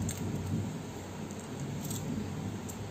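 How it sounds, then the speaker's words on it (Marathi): Thunder rumbles low and continuous beneath a steady hiss of rain at a village home where prawns are being cleaned, the storm sound fairly constant and moderately loud throughout with no voices. "पाऊस गडगडतोय."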